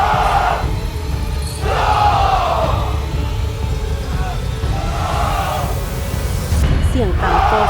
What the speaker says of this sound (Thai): เสียงต่างต่อสู้ค่อยๆเบาลงมีเสียงโห่ร้องแสดงความชมเชย